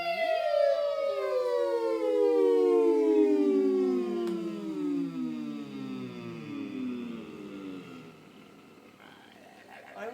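Several voices imitate a big, slow warm-up siren together, singing long sliding tones that start high and glide steadily downward over about ten seconds, loud and sustained with layered harmonics.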